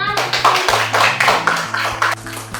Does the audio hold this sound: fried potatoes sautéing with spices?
no